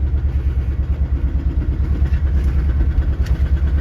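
A car engine rumbles low and steady while the car is parked in a corner spot at home, loud and close throughout with a faint rattly pulse and no speech.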